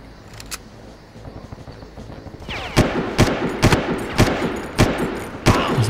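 Gunfire in the video game Far Cry: after a quiet opening with faint clicks, heavy shots ring out in a fast irregular string, about eight loud reports over the last three seconds.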